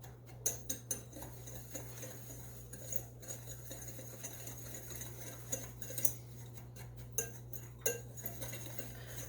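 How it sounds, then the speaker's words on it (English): A whisk clatters rapidly against a bowl while mixing butterscotch pudding mix, bursts of quick metallic ticking and clinking in uneven runs over a steady low hum, close and fairly quiet. "take your whisk and just mix all of this stuff up in your bowl well"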